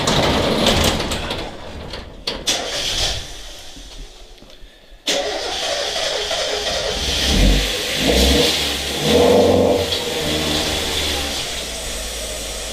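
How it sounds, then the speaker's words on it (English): A Mazda Miata drift car in a garage cranks briefly, then its engine catches with a sudden burst and settles into a loud, close idle with repeated rising revs. "So we're getting ready to start the car up."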